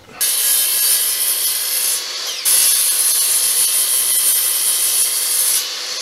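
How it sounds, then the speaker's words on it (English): A saw cuts wood for a goat milking stand, giving two long, loud, steady runs of bright rasping with a short pause between them, close by and with no talking. "I'm going to cut down to here on both sides, and then I'll use another saw and cut this center out."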